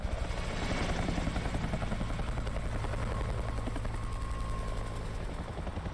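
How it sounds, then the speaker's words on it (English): A helicopter arrives in a survival video game, its steady rotor thrum and engine drone loud and continuous throughout, holding a dense low rumble with a faint tone rising partway through. "That's the helicopter though."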